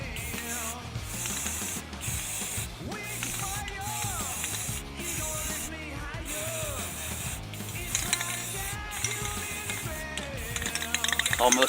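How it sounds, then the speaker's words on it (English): Aerosol can of etching primer spraying onto a steering wheel from a $600 Trans Am project, a steady hiss broken into a regular series of short bursts with brief gaps, close and fairly loud. "Almost out of etching primer."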